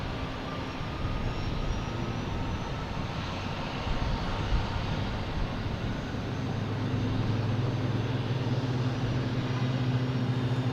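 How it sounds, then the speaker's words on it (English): A Swissair Airbus A330-300 airliner at Boston Logan Airport gives off a steady, distant jet-engine roar that holds at an even level and grows slightly heavier toward the end. There is no talk. "Got Swissair here heading back to Zurich. A330-300, flight 55."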